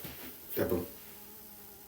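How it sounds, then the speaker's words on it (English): A fly buzzes close by in a brief rising and falling burst, heard faintly over a quiet room while someone speaks a word. "sorry about the buzzing. There's a fly."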